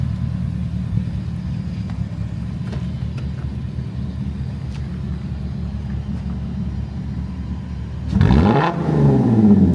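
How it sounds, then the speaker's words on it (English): Revving of a Porsche 955 Cayenne Turbo V8 fitted with a muffler delete and X-pipe: a steady low idle rumble, then a loud, sharp rev sweeping up and back down near the end. "give the V6 a rev"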